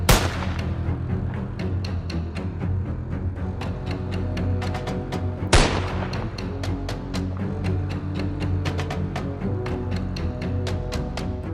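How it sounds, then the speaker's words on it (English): Rapid gunshots crack out during a wild hog hunt as several big boars are dropped, sharp repeated reports stacked over a constant dense rumble, with a loud burst near the middle and many quick shots spread across the clip. "Quick, precise shots dropped several big boars, each with razor-sharp tusks,"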